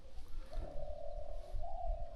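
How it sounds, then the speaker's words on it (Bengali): A dove cooing outdoors, one long steady low coo held across most of the moment, fairly close and clear over faint background noise, with no voices. "কি সুন্দর ঘুঘু ডাকতেছে"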